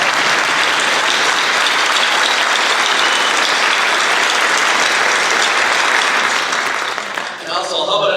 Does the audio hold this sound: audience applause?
yes